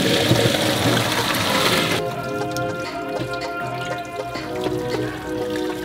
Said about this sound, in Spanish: Este es el primer caldo turbio y tenemos que drenarlo.